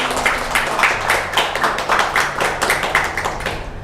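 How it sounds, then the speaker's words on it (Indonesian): An indoor audience claps for a police public-relations official arriving at a talk event, a close, uneven run of individual hand claps rising and falling in irregular bursts, with no speech over it. "Bisa tepuk tangan teman-teman."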